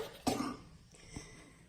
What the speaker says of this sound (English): when I talk, I start coughing